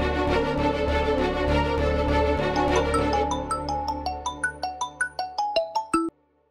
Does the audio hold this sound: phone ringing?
yes